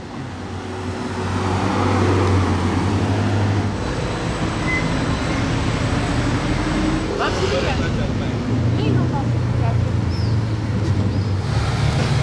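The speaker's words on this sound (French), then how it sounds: "Qu'elle est belle cette Porsche 964 Turbo du Koweït." A Porsche 964 Turbo from Kuwait runs among other cars on the Casino square in Monaco, its steady engine rumble loud and close amid general traffic noise, swelling near the start and again toward the end.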